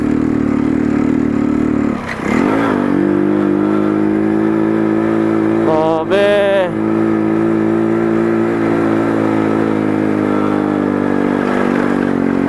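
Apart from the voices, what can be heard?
motorcycle revving on mountain road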